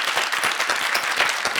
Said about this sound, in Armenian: Բարձր ծափարում ենք